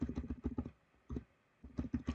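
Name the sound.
typing on a computer keyboard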